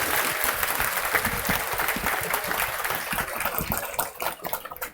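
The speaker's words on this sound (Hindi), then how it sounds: "सब लोग जोर से ताली बजाइए इन लोगों के लिए।" An audience at a ceremony for successful students, cheering candidates who passed a Bihar Police prohibition constable exam, claps loudly, a dense, continuous wash of applause from a crowd that thins slightly toward the end.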